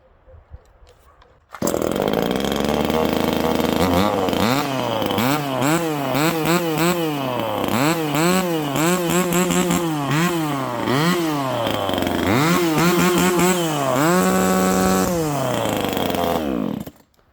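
A small one-handed 2612 petrol chainsaw starts up and runs loudly and steadily, its engine revving up and down repeatedly with a buzzing, harmonic whine.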